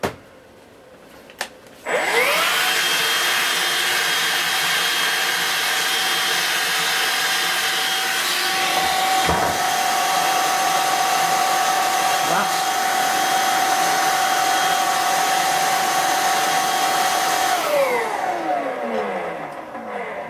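A small vacuum cleaner starts up after a couple of seconds, holds a loud, steady whine close by with a rising tone partway through, then spins down near the end during a Dyson DC03 motor and clutch repair.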